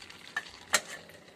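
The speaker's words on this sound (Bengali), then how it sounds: "এখন এগুলো সব ভাজা নিব, পেঁয়াজ রসুন তারপরে মরিচ সব একসাথে ভাজা নিব" Onion, garlic and chili frying together in a pan, a faint, quiet sizzle with two sharp stirring clicks standing out.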